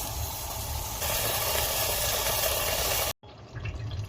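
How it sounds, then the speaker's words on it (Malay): Thai green curry spice paste with green chili frying in oil in a pan. A dense, steady hissing sizzle cuts off abruptly near the end, then returns quieter. "Kita betul-betul tumis sampai betul-betul rempah ni masak."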